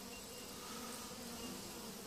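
Honeybees buzz inside an open hive, a dense, steady insect hum that holds evenly throughout with no voices.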